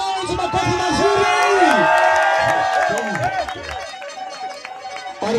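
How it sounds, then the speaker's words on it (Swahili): A crowd applauds and cheers loudly for a man named Lawrence, with whoops and rising shouts over clapping that eases off toward the end. "Pigia Lawrence makofi mazuri."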